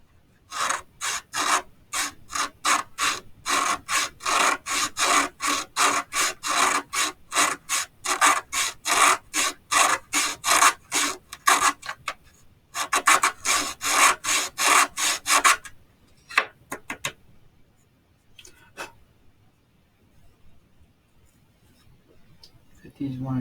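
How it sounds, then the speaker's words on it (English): Hand sanding of a wooden part for a model house: a steady run of quick rhythmic rasping strokes, close and loud, pauses near the midpoint and then thins out into a few scattered scrapes and light taps. "So let me sand a little more."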